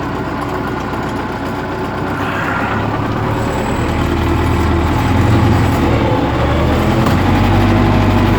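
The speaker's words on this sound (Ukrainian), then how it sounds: "Важкувато йде трактор." A tractor engine labours steadily while pulling a spring harrow to close soil moisture in a field, a loud continuous low drone that strengthens slightly toward the end, with no voices over it.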